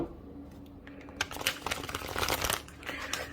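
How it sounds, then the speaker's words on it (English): A deck of tarot cards is shuffled by hand, giving irregular bursts of papery riffling and crinkling that build in the middle and then settle, close and fairly quiet. "One more shuffle."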